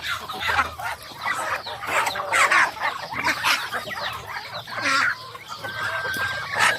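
Backyard farm chickens, some caged and some loose outside, cluck and squawk in overlapping bursts close by, with varied calls throughout.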